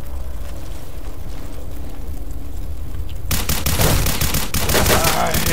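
Gunfire in the video game STALKER Clear Sky: after a quieter stretch, a loud burst of rapid shots erupts and keeps going, dense and close, with no talking over it.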